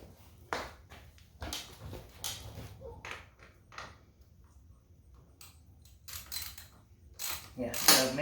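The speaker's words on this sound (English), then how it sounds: "Let me get my ratchet." A hand ratchet snugging the exhaust bolts on a Yamaha YZ250X two-stroke dirt bike during a Lexx pipe install, giving short bursts of clicking in several separate runs, close and quiet, with brief talk between them.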